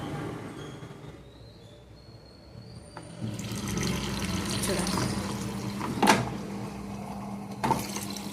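Water running into the drum of an IFB washing machine during a drum-cleaning cycle, a quiet start then a steady splashing rush with a hum, with a couple of brief knocks and a voice speaking.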